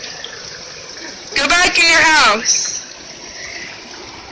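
Rain falling over a lakeside during the day, a steady broadband hiss of falling drops and running water, continuous and moderately loud, briefly covered by a person's close voice speaking in the middle.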